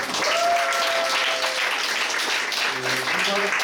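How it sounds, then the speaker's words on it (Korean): Audience applause at a Korean food-columnist talk concert, a steady wash of clapping from a crowd, with faint tonal voices or background sounds layered under it. "박수 부탁드립니다."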